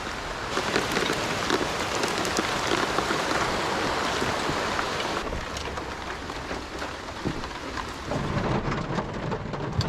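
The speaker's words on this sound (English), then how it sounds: "it started pouring" Heavy rain pours steadily during a camping storm on Little Talbot Island, a dense continuous hiss with low rolling thunder running underneath throughout.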